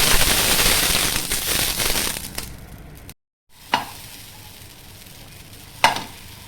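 Ghee sizzles on a pan under a frying pesarattu moong dal dosa, a bright crackling hiss that fades, breaks off briefly, then returns quieter with two sharp spattering pops.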